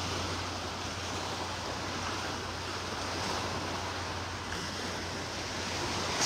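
Waves washing onto Vanderbilt Beach in North Naples, Florida, on a morning walk, a steady broad surf roar with light wind, constant and fairly close, no voices heard.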